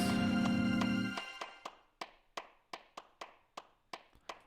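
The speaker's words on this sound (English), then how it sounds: "And then ends with the hand claps" Hand claps closing a music track: a sustained chord fades out, then about ten sharp, evenly spaced claps ring alone with short decays.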